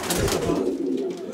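Racing pigeons, breeding cocks in a loft in Bucharest, Romania, coo in a low, steady, throaty murmur that runs close and fairly loud through the whole moment.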